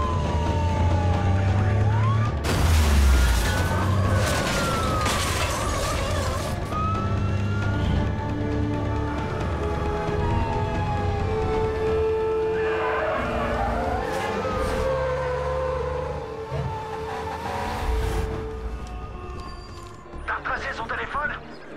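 A loud siren wails and rises and falls amid busy traffic noise, with people talking and shouting over it.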